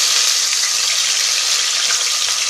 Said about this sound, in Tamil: இப்போ இதில் வந்து வெங்காயத்தை ஆட் பண்ணிக்கலாம்.